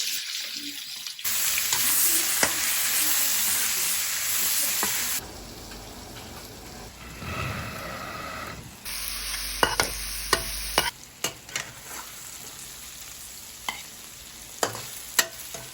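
Tomatoes frying in a hot pan during Akha home cooking give a steady sizzle with stirring scrapes, broken by brief water and tap sounds and a few sharp clinks.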